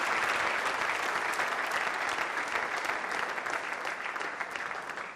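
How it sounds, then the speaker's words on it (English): An audience at an agenda-style public event applauds a woman on stage, a dense, steady wash of many hands clapping at full strength throughout, tapering only slightly toward the end, with no voices on top. "Give her a round of applause."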